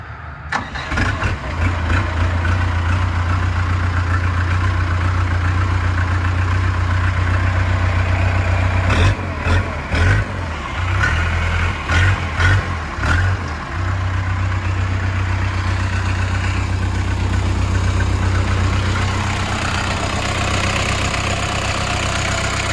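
A 504 mini tractor engine runs at a steady, loud idle nearby, with a low, even rumble, a brief uneven stretch midway and no talk.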